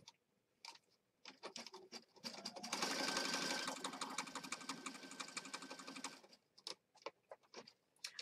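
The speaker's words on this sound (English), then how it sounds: "So we're just going to start stitching across the top here." A sewing machine stitches across junk journal pages, a steady close whirring run of several seconds framed by sparse taps and clicks before and after.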